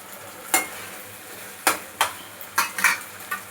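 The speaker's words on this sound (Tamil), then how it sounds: "அந்த மாவுக்காக கொஞ்சம் ஃப்ரை பண்ணால் போதும்" Meal maker manchurian fries in a pan with a soft steady sizzle, broken by several sharp scraping stirs of a utensil against the pan at irregular intervals.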